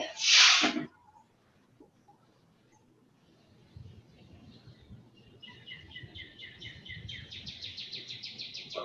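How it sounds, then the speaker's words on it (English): Small bird chirping outside in a yard, a faint repeated twittering that grows steadier toward the end, heard over quiet room noise after a brief loud sound at the start. "whose bird is that?"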